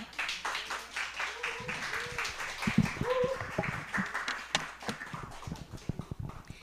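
A church congregation at a Sunday afternoon youth service claps together in a broad wave of applause, moderately loud and filling the room, with a voice speaking over the clapping near the start.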